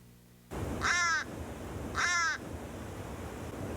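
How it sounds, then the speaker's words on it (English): American crow giving two loud, harsh caws about a second apart, close and alone against a low background hiss. "Compared to other crows and ravens, the American crow is most easily recognized by voice."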